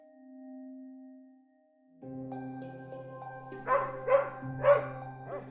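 Dog barks and whines, starting with a tonal whimper-like note, then a layered passage with three sharp barks near the end, fairly close and loud.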